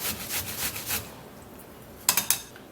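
Watermelon being grated to extract its juice: a series of soft, rhythmic rasping strokes, followed by a few sharper, closer scraping knocks near the end.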